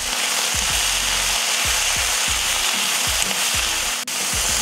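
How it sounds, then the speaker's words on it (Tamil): Chutney ingredients with a handful of mint sautéing in a pan, a loud, constant sizzle with a rhythmic series of low scraping strokes about every half second, no voices. "இதையும் சேர்த்து நல்லா வதக்கிடுவோம்."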